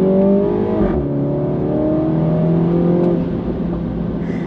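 A Mini Cooper S (F56) engine revs up hard on kickdown and climbs steadily in pitch, loud and close, holding a strong droning roar as it accelerates on a dual carriageway.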